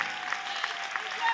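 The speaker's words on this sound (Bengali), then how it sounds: "জোরে হাততালি।" Crowd clapping at a women-run Durga Puja committee award ceremony, a steady moderate wash of handclaps with a few sharper bursts, heard alone.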